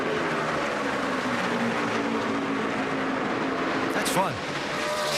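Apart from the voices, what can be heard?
NASCAR stock cars racing at night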